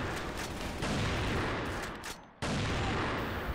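Rapid bursts of gunfire in the online shooter CrossFire fill the clip, loud and nearly continuous, with one short pause before the shooting resumes.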